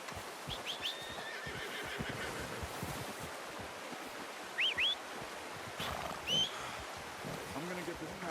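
Horse whinnying in Red Dead Redemption 2, two short high calls standing out over a steady bed of game ambience and hoof movement, fairly close.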